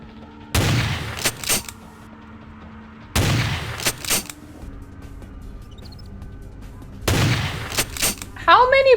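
Three loud bursts of rapid gunfire in Vampire: The Masquerade – Bloodlines with the Final Nights mod, each salvo lasting about a second, separated by quieter game ambience and faint voices.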